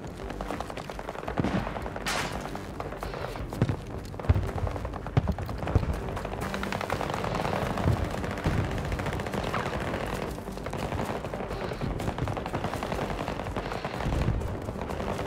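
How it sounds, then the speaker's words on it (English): Rapid bursts of automatic gunfire rattle almost without pause in a Battlefield 2042 firefight, with sharp single shots and heavier blasts mixed into the dense, loud exchange. "The bullets are flying."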